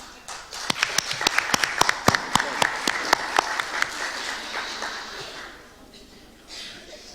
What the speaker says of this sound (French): leur demander d'applaudir toutes les femmes ici qui sont avec nous